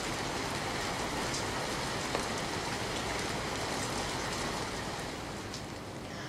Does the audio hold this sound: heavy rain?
yes